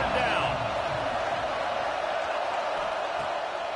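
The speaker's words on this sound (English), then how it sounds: "Here comes the noise from this big crowd in Happy Valley on 3rd down" Roaring crowd noise fills a big college football stadium in Happy Valley on third down, a dense, steady wall of cheering and yelling that holds loud and constant throughout.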